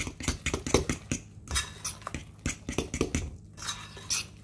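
Sweet potato cornbread batter stirred by hand in a bowl, a utensil scraping and clinking against the sides in quick irregular strokes with brief pauses, close and fairly quiet.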